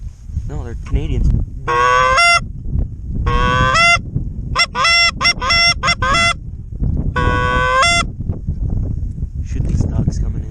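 Canada geese honk in flight during a blizzard duck hunt in South Dakota, loud repeated overlapping honks in bursts from a close flock, with people talking over wind noise.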